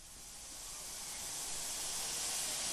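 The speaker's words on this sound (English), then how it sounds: "Now it started out with steam blowing," Steam blowing that opens a train sample in a funk track, a steady broad hiss fading in gradually and growing louder, with no voices.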